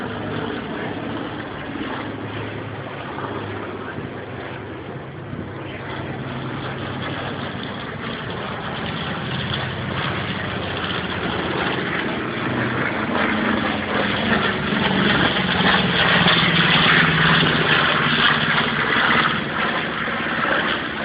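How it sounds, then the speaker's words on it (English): Engines of a B-25 bomber with short exhaust stacks run steadily at an air show, a broad continuous drone that swells gradually louder toward the end, with no talk. "That the noise of the B-25 bomber's engine is louder than that of the B-17 because of the short exhaust"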